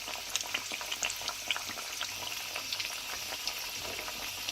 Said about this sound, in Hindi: तो इसके अंदर मैं जो है फ्राई करने के बाद इसको डालती जाऊंगी।